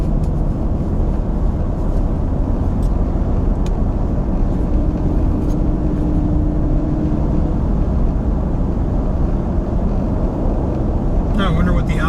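Inside a quiet truck cab on the road, steady low rumble of tyre and road noise blends with a light wash of wind noise, continuous throughout, with a brief rustle near the end.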